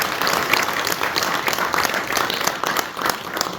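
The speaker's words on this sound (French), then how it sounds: "Je voudrais, pour finir, que nous l'applaudissions" An audience at a conference lecture on the Rwandan tragedy applauds, a dense, continuous clapping that stays fairly even and sustained from start to finish.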